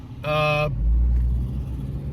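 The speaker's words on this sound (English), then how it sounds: "Sorry, I'm in a little bit of traffic here." Road traffic from inside a moving car: a low, steady engine and tire rumble runs throughout, with a brief tonal horn-like blast early on and a passing vehicle swell.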